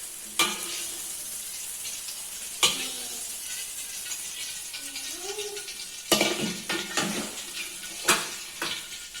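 Fried spice paste for pecel lele sambal being scooped and lifted out of a frying pan, with light oil sizzle and several sharp spatula clanks against the pan, up close.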